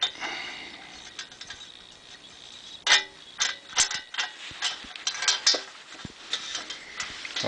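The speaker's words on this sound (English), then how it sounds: "you tighten it until it tightens up" A nut being tightened onto a bolt holding a Honda tractor footstep with beveled holes and a spacer, heard as a series of close, irregular metallic clicks and ratcheting ticks with short pauses.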